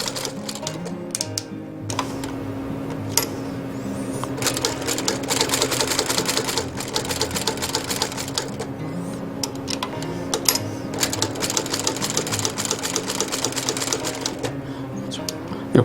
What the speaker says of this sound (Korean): 아주 정상적으로 잘 바느질이 되는 것 같습니다